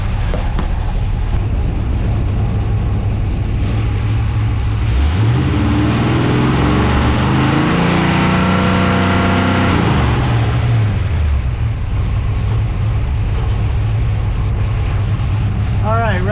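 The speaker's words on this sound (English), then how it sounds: "I'm going to rev it up and see what I can get for total timing." A carbureted car engine during an ignition timing adjustment, rising from idle into a loud rev with climbing pitch, held for several seconds, then dropping back to a rough idle, very close with a voice talking over it.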